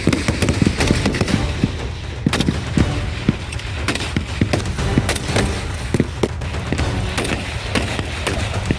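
Rifles fire at a military training range, sharp cracks arriving at irregular intervals, some close and loud, others farther off, over a constant outdoor rumble with no talking.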